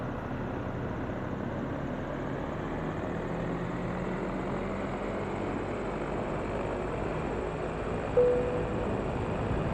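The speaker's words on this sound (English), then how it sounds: "I've disabled all the sounds from XP Realistic so that they don't interfere with the aircraft sounds." A DA40NG light aircraft engine, modeled in the X-Plane 12 flight simulator, drones steadily while taxiing on the ground. The hum is loud and constant, with one brief tonal blip near the end and no talking.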